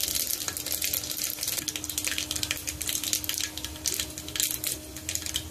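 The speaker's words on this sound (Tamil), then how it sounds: "இப்போ வெந்தயம், வெந்தயம் நல்லா பொரியட்டும்." Fenugreek seeds fry in hot oil in a pan, giving a steady close crackling sizzle with frequent tiny pops throughout, no voices.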